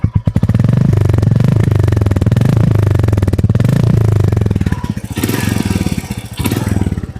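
A Royal Enfield Goan Classic 350 motorcycle engine revs loudly and close by. Its throbbing single-cylinder drone swells and dips with throttle blips, then roughens and thins toward the end.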